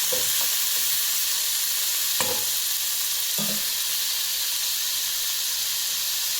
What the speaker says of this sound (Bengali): এইবার আমি সবজিটা সবটাই দিয়ে দেবো। প্রথমে একটু নেড়ে নেব